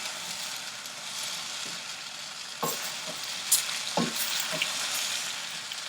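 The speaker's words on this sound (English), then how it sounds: "You have to constantly stir over the high heat." Vegetables and bacon sauté noisily in a hot pan over high heat, a steady loud sizzle broken by a few sharp clanks and scrapes of stirring, with no talking.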